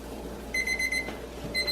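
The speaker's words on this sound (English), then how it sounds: "Thank you, pig timer, for telling me time" A pig-shaped kitchen timer rings in short, shrill electronic bursts, two brief beeping runs close by over quiet room noise.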